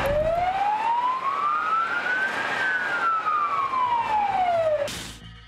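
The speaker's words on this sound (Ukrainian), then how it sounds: "Рятувальники із сиренами щосили мчать на жахливу і масштабну аварію" Emergency vehicle siren from rescuers racing to a four-truck pileup on a busy highway outside Dnipro: one loud, close wail sweeping up and then down again, cutting off abruptly near the end.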